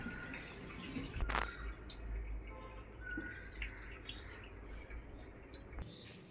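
Water dripping and trickling from freshly washed raw chicken pieces left to drain in a kitchen, a steady patter of soft wet drips with a few louder splashes, no talking.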